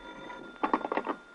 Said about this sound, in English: the phone was ringing in my hotel room when I got there